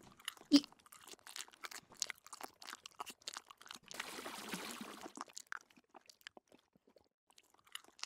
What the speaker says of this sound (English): What is that chewing sound?